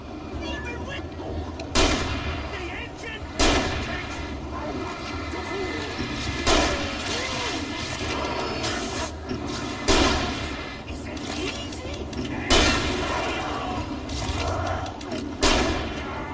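Gunshots in the horror video game Alan Wake, fired at a gas station: sharp, loud single reports spaced every second or two over a steady ambient game background.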